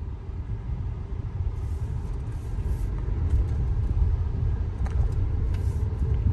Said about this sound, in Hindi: तो सेकंड पे हमारी कार चल रही है